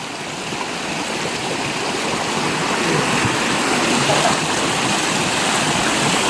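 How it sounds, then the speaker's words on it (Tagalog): A creek flows in a steady, close, full rushing wash with no break throughout. "Dito na kami sa may sapa."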